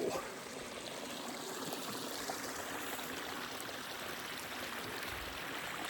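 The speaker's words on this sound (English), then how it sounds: "Snow runoff in the mountains." A mountain stream of snow runoff in Colorado rushes steadily and loudly up close, a constant broadband wash of flowing water with no breaks.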